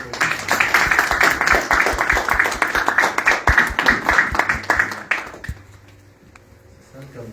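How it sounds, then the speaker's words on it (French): Audience clapping at a tribute event in French, dense and steady for about five seconds before stopping abruptly and leaving a quiet room with faint voices. "Applaudissez-leur."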